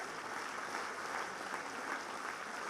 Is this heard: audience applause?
yes